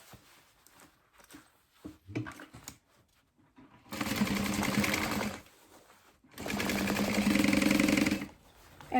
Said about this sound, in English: And I'm just trying to sew on a straight line.